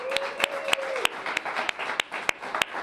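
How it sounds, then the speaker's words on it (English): Sparse, sharp claps from a small audience at a community arts evening in Denver, about ten distinct hand claps spaced unevenly over a soft background, with a brief sustained tone near the start. "Let's give them a round of applause for that."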